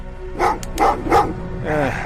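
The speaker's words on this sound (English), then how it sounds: "What's with the dogs?" Several dogs bark in a quick run of three sharp woofs, then a whining yip, fairly close and loud, with a voice faintly present underneath.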